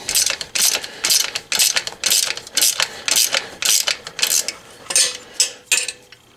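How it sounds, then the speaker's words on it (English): A 13mm ratchet wrench tightens the bottom bolt on a lower crash bar of a Honda Africa Twin CRF1000L motorcycle: a steady run of about a dozen loud, close, rhythmic clicking ratchet bursts with no talking. "on the right side I'm going to be using a 13mm ratchet wrench to tighten up the bottom bolt"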